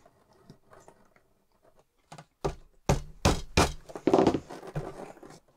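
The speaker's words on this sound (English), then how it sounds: "I'm just sinking a channel on the outside because that's where there'll be most abrasion." A leather grooving tool cuts a stitching channel into leather for a compact tool bag. Faint handling noises lead into several close, rough scraping strokes that grow louder and denser toward the end.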